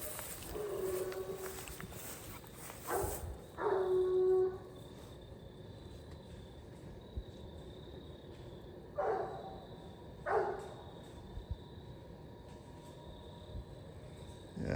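A hunting dog bays from somewhere off in the dark along a raccoon trail in Iowa: a few short bursts of barking, fairly distant, set against a steady chorus of night insects.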